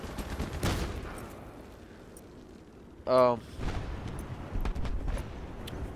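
Gunfire from the video game Battlefield 3 on the Caspian Border map during 64-player conquest, a brief rapid burst of shots about midway, set against steady background game noise.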